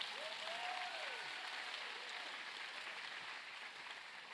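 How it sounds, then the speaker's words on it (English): Audience applauding a high school concert choir at a ribbon-cutting ceremony, a steady, even wash of clapping held throughout at moderate distance, with a brief tonal voice-like sweep early on. "Can you join me in giving them a round of applause?"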